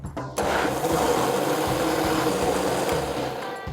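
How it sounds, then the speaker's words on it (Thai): A blender whirs steadily as it blends a mung bean mixture, a loud continuous motor drone starting after a brief quiet moment and running without pause to the end. "เสร็จแล้วก็เอามาปั่นต่อให้เข้ากันครับ"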